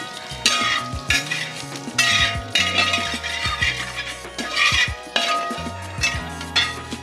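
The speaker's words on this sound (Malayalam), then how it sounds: "കുറച്ച് വേപ്പില, കുറച്ചൊന്ന് മുരിച്ചെടുക്കാം അല്ലേ?" Curry leaves and fennel seeds roasting in a pan for pepper chicken, a continuous close sizzle broken by repeated scraping and stirring strokes of a spoon against the metal, with occasional clinks.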